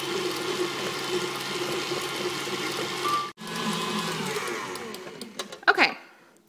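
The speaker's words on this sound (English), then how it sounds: "now we are going to start mixing the hard oils until they're nice and fluffy" Electric hand mixer whipping hard oils and mango butter for whipped soap, a steady loud whirring drone that cuts briefly, resumes, then winds down with rattling near the end.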